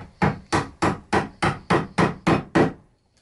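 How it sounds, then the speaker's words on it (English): A chisel chopping a mortise into solid wood for a workbench, eight sharp, evenly spaced mallet strikes about a third of a second apart, close and crisp with a short woody ring after each blow. "It was a lot of chopping after the drilling,"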